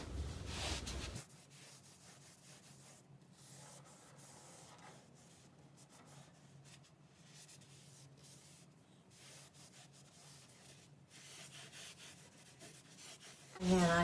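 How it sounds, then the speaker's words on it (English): A dry cloth rubs over an oiled slate floor to wipe off the excess oil, a soft, continuous, close scrubbing hiss between louder bursts at the start and end. "I just go over it with some of the dry cloth just to get the excess oil off"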